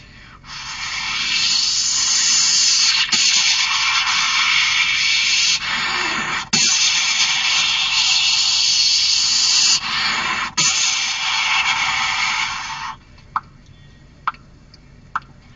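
A schoolboy performing mimicry at a Kerala school arts festival imitates thunder and rain with his voice: a loud, sustained hissing roar lasting about twelve seconds with brief cracks and breaks, then a few faint clicks.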